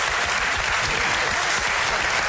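A television-show audience claps steadily and loudly throughout, a dense wash of applause with no voices standing out.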